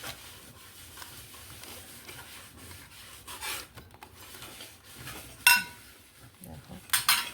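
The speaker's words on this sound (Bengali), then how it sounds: "এই দেখো এভাবে নকুলদানাগুলো এর মধ্যে আলাদা করে ঢেলে দেবো যাতে এটার সাথে ছোঁয়া না লাগে।" Small nakuldana sugar candies are poured into a container nearby, producing soft rattling and rubbing with a few sharp clinks, quiet and irregular in a home setting.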